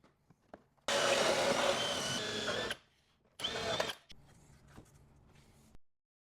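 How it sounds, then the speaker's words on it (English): A power drill whines loudly for about two seconds, stops, then bores again in a shorter burst into a 2012 Harley Electra Glide tour pack, followed by faint clicks and scraping. "Now we're going to go ahead and drill our porthole between our tour pack"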